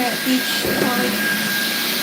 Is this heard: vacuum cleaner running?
yes